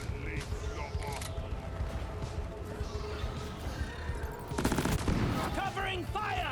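Video game firefight with bursts of gunfire and rapid machine-gun fire, loud cracks and clatter layered over voices and game effects, with a heavier burst near the end.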